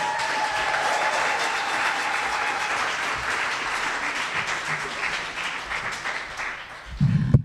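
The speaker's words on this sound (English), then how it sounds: "So a round of applause for our own Christine Schofer" An audience applauds at a Women's History Month celebration in East Bay, broad and steady clapping from many hands that slowly thins, with a brief burst of talk near the end.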